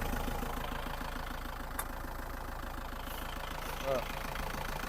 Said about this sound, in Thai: เสียงเครื่องมวนอยู่นะเสียงเครื่องก็มวนอยู่